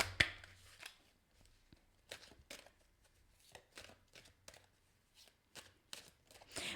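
Tarot-style cards shuffled by hand during a love reading, a series of quick riffling bursts recurring at irregular intervals, close and fairly quiet, with no voices.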